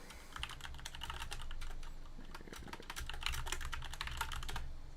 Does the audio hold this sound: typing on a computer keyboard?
yes